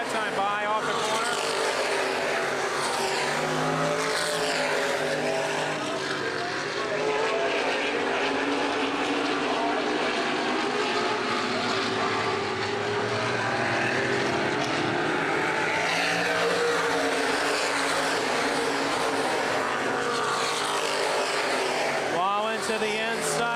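Open-wheel modified race cars roaring down a speedway straightaway, a continuous loud engine drone throughout with an announcer talking over it.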